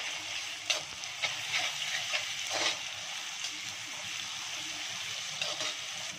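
Ginger garlic paste sautéed with browned onion in a pan for egg biryani, giving a steady hissing sizzle throughout, broken by a few soft spoon scrapes and stirring taps.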